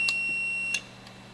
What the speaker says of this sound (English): go ahead and bring the buzzing sounds out